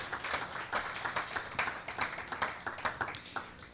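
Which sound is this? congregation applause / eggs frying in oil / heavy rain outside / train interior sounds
congregation applause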